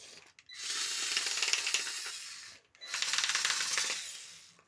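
A budget cordless screwdriver from Action unscrewing a screw from wood, giving two sustained buzzing, ratcheting whirs of about two seconds each, separated by a short pause, close and with no talking over them.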